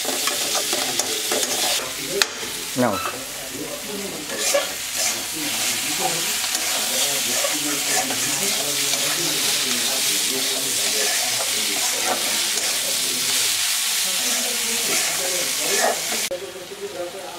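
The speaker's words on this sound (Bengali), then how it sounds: "এবার নাড়া হচ্ছে। সুন্দরভাবে এগুলোকে কষিয়ে নিতে হবে।" Chicken curry with salt being stirred in a pan, a steady sizzle of frying under repeated scraping strokes of a spoon, close and continuous, with a brief spoken word near the start.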